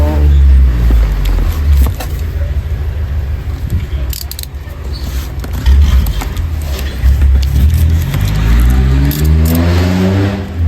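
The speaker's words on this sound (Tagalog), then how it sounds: "ako'y malapit sa kalsada kaya medyo maingay po talaga dito sa aming area" Steady roar of road traffic, with cars passing close by and engines revving and whirring, a continuous loud rumble throughout.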